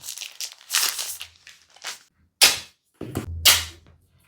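Packaging of Poco X8 Pro phone boxes being opened: bursts of crinkling plastic and paper, sharp snapping tears and pops, close and loud with short pauses between.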